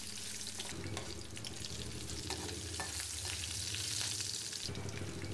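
Curry leaves and chili powder fry in hot oil, a steady close sizzle with stirring scrapes and a brief watery splash partway through.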